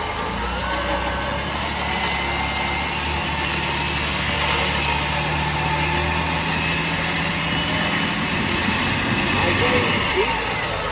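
Off-road vehicle engine held steady on light throttle, a continuous rumbling drone filling the whole stretch, loud and close, with occasional voices talking over it.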